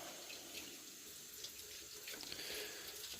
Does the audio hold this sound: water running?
yes